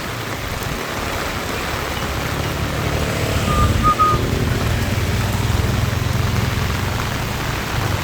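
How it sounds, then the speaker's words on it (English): Heavy thunderstorm rain in the Philippines falling steadily over a town with buildings, a dense even hiss of downpour close by, with a faint tonal whistle briefly rising above it. "Heavy rain,"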